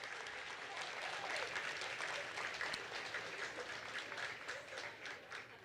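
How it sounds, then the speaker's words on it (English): An awards gala audience applauds the night's winners, a sustained wash of many hands clapping at an even, fairly distant level. "Give them a big round of applause."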